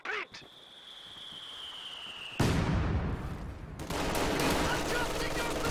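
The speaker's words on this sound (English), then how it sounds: "Rifles run head on into the machine gun. Machine has indeed tech grenades though, and off goes a pineapple grenade." In the Company of Heroes 2 real-time strategy game, a thin tone fades as a loud, dense burst of machine gun fire erupts and holds steady, with a pineapple grenade blast folded into the continuous roar of battle.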